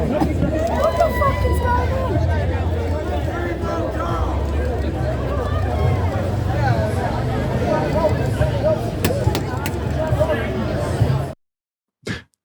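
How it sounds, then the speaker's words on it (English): A packed press scrum and crowd jostle outside a courthouse as the three members of Kneecap push through the doors, a dense, close hubbub of overlapping voices, shuffling and camera clicks, ending abruptly with a brief burst after a silent gap. "the three members of Kneecap literally having to push and drag themselves through the courthouse doors because of the massive pack of journalists surrounding them"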